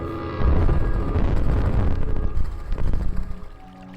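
Flowing water in Kingdom New Lands makes a loud, steady rushing wash that fills the whole stretch and eases off slightly toward the end.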